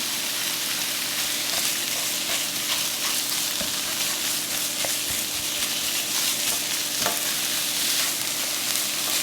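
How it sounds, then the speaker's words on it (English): Ground turkey sizzling and frying in a pan, a steady close hiss with occasional stirring scrapes and pops throughout, no talking. "I'm going to go ahead and cook my turkey through first, and then I'll season."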